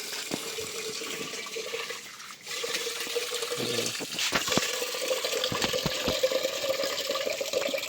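Rice being washed in water at home, with continuous splashing and sloshing and a brief dip partway before the water noise resumes, steady and close.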